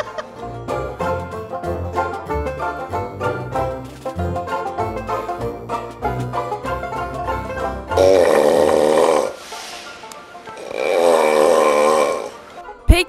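Music plays first, then two long, loud snores come one after the other, each a drawn-out rasping breath separated by a short pause.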